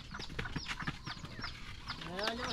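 A hen clucks in short bursts nearby, mixed with faint background voices and farmyard noise.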